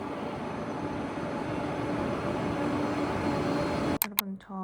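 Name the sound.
train travelling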